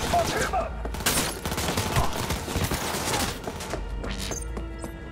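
Loud gunfire from the video game Cyberpunk 2077 cracks in rapid bursts and scattered shots, with crashing impacts mixed into a busy, dense soundscape.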